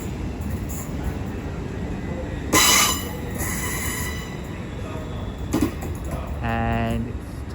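Class 800 train at a London terminus, with wheels squealing loudly in bursts and a tonal whine of the set moving near the platform, over steady station rumble.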